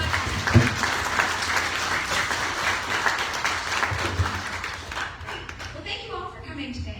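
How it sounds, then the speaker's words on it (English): An audience at a Wednesday meeting of A Million Cups claps for guests, a full round of applause that holds steady for about five seconds and then thins out and fades. "Let's give them a round of applause."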